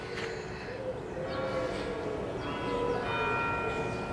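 Canterbury Cathedral's bells chime outdoors near the cloisters, ringing tones sustaining over a steady ambient hum at moderate distance, with no speech over them.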